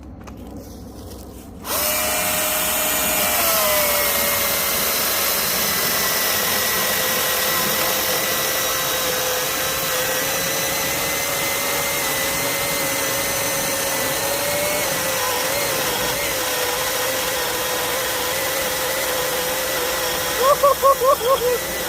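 A Milwaukee M18 battery chainsaw fitted with a 24-inch bar and full-chisel .325 chain cuts wood, a loud steady high whine starting abruptly after a quiet moment and holding under load, with brief revving bursts near the end.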